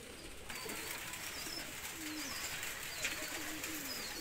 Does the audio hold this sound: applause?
no